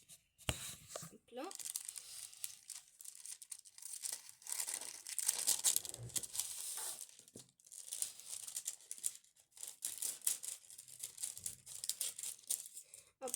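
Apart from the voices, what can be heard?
cutting a small square of baking paper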